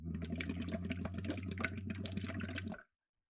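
Voice phonated through a straw into water during a semi-occluded vocal tract exercise makes a steady, close bubbling hum that holds for nearly three seconds, then stops abruptly.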